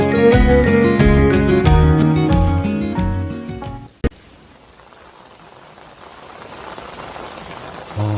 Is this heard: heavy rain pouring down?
yes